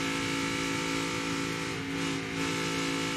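An ARCA race car at Kansas Speedway roars steadily under throttle, a loud sustained engine drone with strong harmonic bands holding close and even throughout, with no talk.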